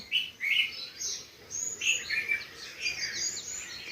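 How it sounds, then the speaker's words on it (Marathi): Morning birdsong fills the air with bright, overlapping chirps and tweets, several birds calling in quick bursts close by against a soft, steady outdoor hiss. "पक्ष्यांचा कलकलाट"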